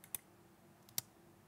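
Two crisp, isolated click sound effects from the DaVinci Resolve sound library snap out about a second apart, short and bright over a faint background.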